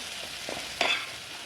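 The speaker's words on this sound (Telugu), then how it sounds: "తర్వాత వన్ టేబుల్ స్పూన్ కారంని యాడ్ చేసుకొని" Tomatoes frying with chili powder in a pan, giving a steady close sizzle with a brief stir and a louder hiss burst partway through, with no talking.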